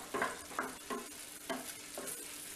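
Thick tomato pickle bubbling and spluttering in hot oil, with several soft popping bursts at irregular intervals, close by and fairly quiet, no talking.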